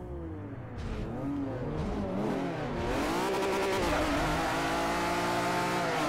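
A Lamborghini Miura in Forza Motorsport 4 revs hard on the Top Gear test track, its engine note climbing and falling through sweeping pitch changes before settling into a loud, sustained high-rev howl, close and continuous.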